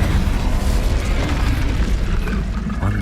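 An Incendio fire spell cast in Hogwarts Legacy on PS5, heard as a loud whooshing, booming burst of flame amid dense, rumbling combat noise, with no talk.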